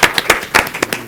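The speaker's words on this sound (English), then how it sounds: "Let's give a round of applause" Attendees at a city council meeting clapping after a reappointment, a short burst of several distinct, fairly loud claps from a small group in a meeting room.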